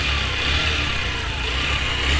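A restored Yamaha YBR 125 motorcycle runs at idle close up, a loud, steady single-cylinder putter with an even low pulse and no smoke, heard alone for a couple of seconds.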